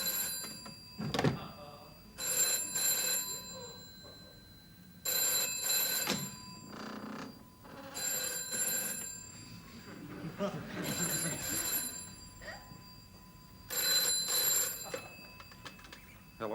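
An old-style telephone bell rings in repeated double bursts, fairly close, across several cycles with quieter stretches of room noise and faint movement between them.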